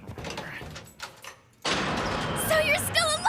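A bedroom door in an animated scene is opened with one sudden thump midway, after which the room sound shifts and voices begin talking close by.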